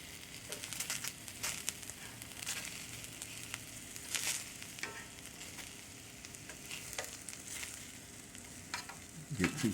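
Bologna frying in a cast iron skillet, a steady close sizzle with crackles and occasional scrapes as the slices are moved around, continuing throughout with no talking.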